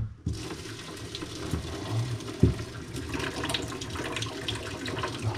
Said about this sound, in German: Die gieße ich jetzt einfach mal ab.